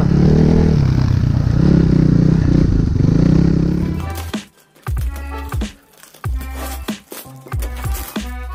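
A motorcycle engine rumbles loudly and steadily up close on a winter ride, then cuts out and gives way to a series of irregular clattering knocks and scrapes.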